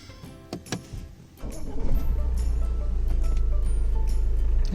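A Tata H5 truck engine cranks and catches after a few clicks and knocks inside the cabin, then settles into a steady, deep diesel idle heard from the driver's seat.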